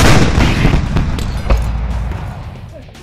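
A Panzerhaubitze self-propelled howitzer fires a single shot with Norwegian propellant charges, a loud close boom that rolls out and slowly decays over a few seconds.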